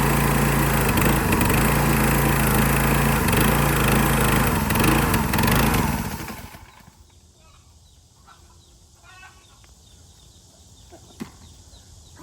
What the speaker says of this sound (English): so I'm gonna get to work with the pressure washer